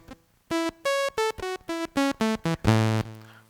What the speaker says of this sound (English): This is a blank patch that sounds like this.